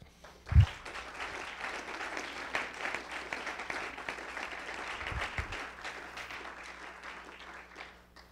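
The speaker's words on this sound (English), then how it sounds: "Let's give you all one more round of applause." Applause from an audience at an agricultural pitch competition awards event fills the room steadily for several seconds, a dense even patter of many hands with no talk over it.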